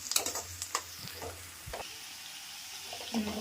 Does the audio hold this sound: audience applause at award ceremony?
no